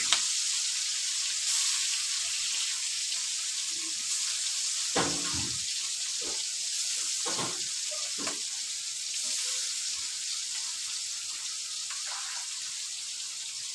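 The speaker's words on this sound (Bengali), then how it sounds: "তেল গরম হয়ে গেছে, মাছ দিয়ে দিলাম।" Rupchanda pomfret fish fries in hot oil in a wok, giving a continuous close sizzle. A few sharp clinks and clatters stand out over the hiss, and no one speaks.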